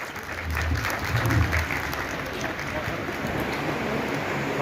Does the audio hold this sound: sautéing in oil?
no